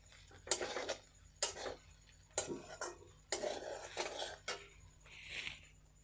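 Flattened rice being stirred and mixed in a pan over low heat, bursts of dry scraping and rustling from a spatula with pauses between, close and fairly quiet, no voices.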